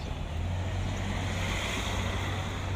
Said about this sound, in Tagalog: Sobrang traffic guys.